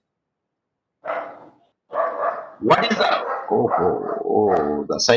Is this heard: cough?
no